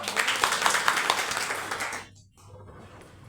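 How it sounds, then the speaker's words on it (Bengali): Students in a maths class clap together for a classmate, a dense burst of hand claps for about two seconds that then stops abruptly, leaving a quiet room with faint low hum. "সবাই ওর জন্য হাততালি দাও"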